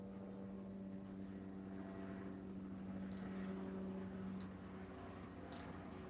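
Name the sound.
firefighting helicopter flying overhead through smoke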